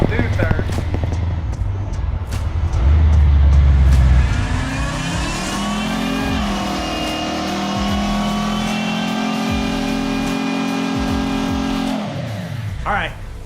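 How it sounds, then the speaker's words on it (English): A truck engine revs hard during burnouts, roaring loud and close as it climbs through the gears and holds a high, strained pitch, with a person talking over it. "We got some burnouts."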